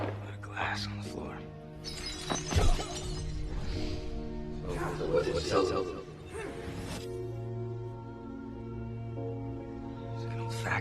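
Glass shatters on a floor in a brief crash, heard amid whispered voices and a low droning background in a dramatic flashback scene.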